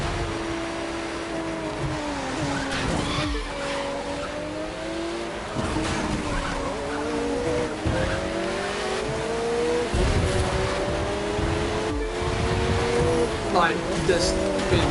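A BMW Z3 engine races in The Crew 2, revving and shifting through gears with rising and falling pitch, loud and continuous, with tire noise mixed in.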